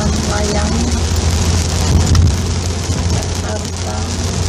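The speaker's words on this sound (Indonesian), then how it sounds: "hujan-hujanan di jembatan layang" Rain and road noise inside a vehicle driving over the elevated Jakarta–Cikampek toll road in a downpour, a steady close wash of rain hiss over a low engine and tyre rumble throughout, with no break.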